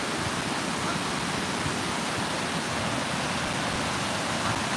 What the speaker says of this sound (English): enjoying the weather and enjoying the waterfall